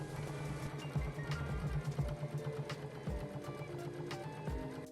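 A sewing machine stitching around a fabric book cover, a faint steady mechanical whirr with soft rhythmic needle ticks and occasional clicks, close by and heard alone.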